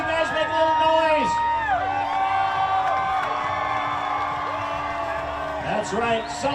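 A parade crowd at the Pasco Grand Old 4th celebration cheers, whoops and shouts continuously and loudly, with high-pitched screams and horn-like tones rising and falling throughout.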